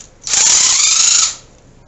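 Power tool, likely an impact wrench, removing the turbo bolts on a Nissan Z31 fitted with a GT3582 turbo, in one loud, steady, high-pitched mechanical burst of about a second that stops abruptly.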